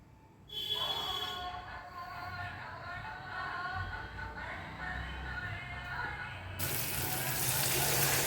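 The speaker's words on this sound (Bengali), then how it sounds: "এবারে দিয়ে দেবো জল" Water poured into a pan of frying spices for a thin hilsa fish curry, a continuous splashing pour that starts abruptly and runs steadily, with a hissing burst of steam near the end.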